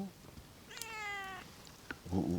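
A cat meows once at a solo campsite beside a warm campfire, a single drawn-out, close call, followed shortly by a brief low noise.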